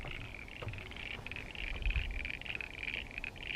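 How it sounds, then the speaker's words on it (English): Frogs croak in a floodway below a bridge at a nature reserve on Mt Taylor, a steady chorus of repeated calls in the mid range, moderately near, with no talking. "Oh, we've got a few frogs in the floodway."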